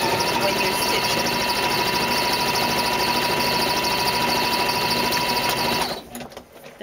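A sewing machine runs nonstop, stitching the fabric seam of a gift bag with a loud, close, rapid mechanical whir, then stops abruptly near the end.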